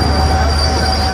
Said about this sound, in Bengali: ফাইনালি আমাদের ট্রেন এসে গেছে। আর এই হচ্ছে কাশ্মীরের লোকাল ট্রেন